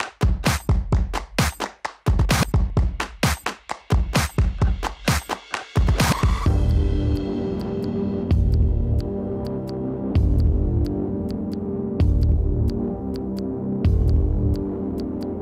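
The six bolts holding a van's fuel tank are loosened with a rapid, regular train of sharp clicks over the first half. A steady, throbbing mechanical hum with faint ticks carries on after it.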